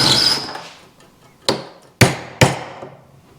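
Sharp metal hammer blows knocking out a rivet from a handbrake lever during fabrication of a folding lever: three distinct strikes with ringing decay, following a fading clatter, close and loud with no talking.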